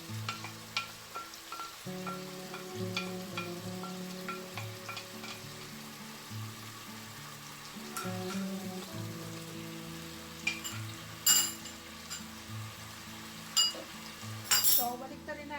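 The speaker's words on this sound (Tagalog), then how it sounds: "So, baliktarin natin yung ating pork para even yung pagka-luto sa kanya" Pork steak fries in its marinade in a pan, a steady close sizzle with scattered clinks of utensils and pan, while a harmonic background tone runs underneath.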